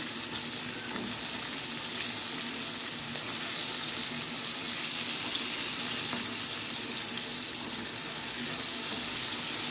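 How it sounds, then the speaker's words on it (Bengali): Pieces of chicken fry sizzle steadily in hot oil in a pan, a dense, continuous crackling hiss heard up close with no talk. "লাল লাল করে ভেজে নেব"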